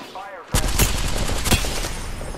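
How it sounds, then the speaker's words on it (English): Apex Legends gunfire, a sudden loud burst of rapid shots that keeps going, with sharper cracks standing out after a short voice at the start. "I am taking fire"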